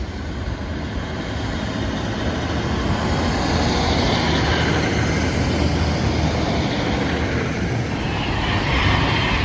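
An Avanti West Coast Pendolino train runs through Bletchley station heading for London Euston, a loud, continuous rushing roar with rail rumble and a high whine, close and steady throughout, with no voices.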